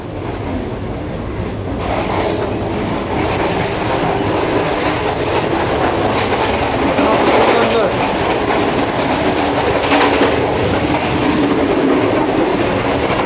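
Aboard the Shalimar Express running from Karachi to Lahore, loud steady rumble and clatter of wheels on rails fills the space between coaches, with squeals and rattling doors as someone walks through; a voice is briefly heard.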